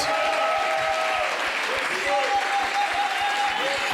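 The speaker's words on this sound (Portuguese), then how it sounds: "We can clap our hands to prophet." A church congregation at a midweek service claps for the prophet, a full, steady wash of handclaps with low rhythmic thumps and sustained musical or sung tones beneath.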